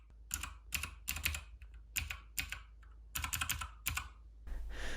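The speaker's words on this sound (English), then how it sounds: "I wanted to see if color made any difference in the sound of the keys." Fingers type on a Keychron K2 mechanical keyboard in quick bursts of clacking keystrokes separated by short pauses, close and fairly quiet, with no voices.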